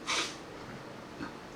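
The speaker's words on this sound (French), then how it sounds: "J'ai reniflé" A single sharp nasal sniff opens, followed by softer breathing and a second faint sniff, close up, while a person tastes hot sauce.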